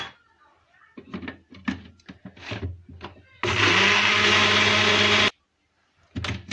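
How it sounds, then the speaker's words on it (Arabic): Electric mixer whirring through eggs, sugar and lemon zest for a layer cake, a loud steady burst of about two seconds between stretches of someone talking. "هنا بعد ما طحنا داك البيض والسكر وقشور الحامض قبيصه الملحه، غنزيد هنايا الزيت وانا كنطحن"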